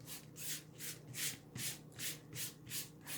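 A hand rubs and smooths a Chalk Couture stencil transfer flat, a quiet rhythmic swishing repeated about eight times in even strokes.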